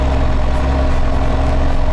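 A tractor engine idles steadily at the back door of a farm shed, a loud, continuous low rumble with a constant hum and no breaks, heard alone without any talk.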